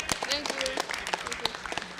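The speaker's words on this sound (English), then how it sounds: "Clap for a guy with the hat." Applause from the audience at a live anime convention show, with a dense spread of hand claps running steadily through the whole stretch at moderate loudness, heard from within the crowd.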